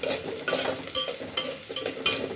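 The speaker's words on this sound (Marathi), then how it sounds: "एक वाटी कांदा टाकून घेतला आहे त्याच्यामध्ये जिरा मोहरीचा छान असा तडका बसलेला आहे" Chopped onion sizzles in a cumin and mustard seed tempering while being stirred, a steady close frying hiss broken by regular scraping strokes of the spoon, with no one talking.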